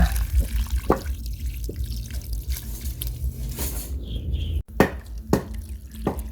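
Water sprayed gently over freshly gathered red ant eggs, giving an uneven hiss broken by irregular drips and splashes, close and fairly quiet.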